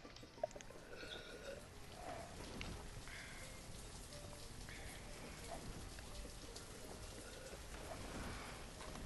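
Constant rain in the video game Banished, a steady soft patter of raindrops with faint rumbling underneath, continuous and low in level, no speech.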